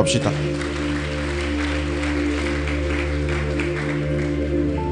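A church congregation applauds in praise, a dense, steady wash of clapping over sustained organ or keyboard chords, with voices mixed into the crowd.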